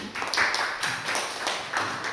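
Students in a classroom clap for group 3 after its presentation, a short burst of overlapping handclaps from several people nearby.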